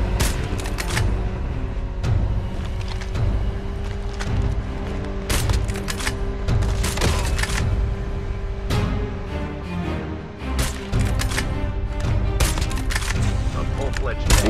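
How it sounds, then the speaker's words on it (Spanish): Rapid gunfire crackles in a shooter video game during a solo sniper versus squads match, with sharp, loud shots arriving in dense repeated bursts and volleys across the whole stretch, barely pausing. "Al mismo tiempo escucho más disparos."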